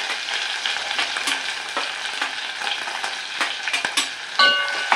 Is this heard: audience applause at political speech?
no